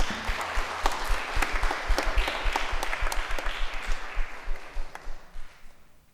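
A congregation at a Catholic Mass applauds with steady, brisk clapping that tapers off and fades out near the end.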